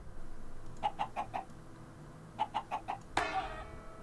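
Minecraft chickens clucking: two bursts of four quick, evenly spaced clucks separated by a pause, followed by a short squawk near the end, clear and close with no talking.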